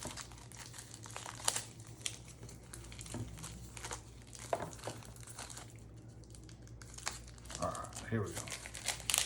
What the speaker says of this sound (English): They're packaged really well. It's the strongest cellophane I've seen.